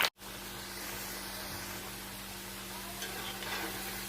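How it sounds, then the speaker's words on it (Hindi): Potatoes deep frying in hot oil give a steady, even sizzle with a soft bubbling hiss close by. A brief clunk comes at the very start, and no one talks. "अब हम आलू को डीप फ्राई करेंगे।"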